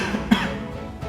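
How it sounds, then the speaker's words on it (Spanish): A single short cough from an indoor speaker, one sharp burst near the start followed by quiet room tone. "Disculpen que me dio tos."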